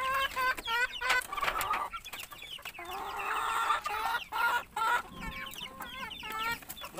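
Black Australorp chickens in a backyard flock cluck close by, with repeated short calls and busier bursts of clucking that continue throughout.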